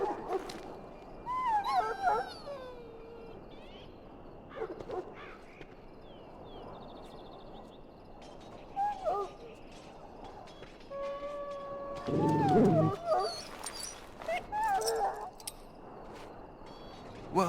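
A sick hound in the Dragon Age video game whimpers and yelps in scattered high-pitched cries, with a louder howl-like outburst near the middle, over quiet ambient game sound.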